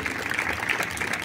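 Concert audience applauding inside a church, a steady, moderate wash of many hands clapping with no clear individual claps standing out.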